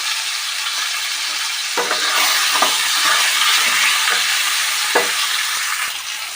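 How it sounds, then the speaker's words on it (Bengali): Turmeric, cumin and chili powder masala with Kashmiri chili fries loudly in a pan for a vegetarian cabbage dish, a dense continuous sizzle punctuated by several spatula scrapes as it is stirred. "দিয়ে মশলাটাকে আমরা ভালো করে কষিয়ে নেব।"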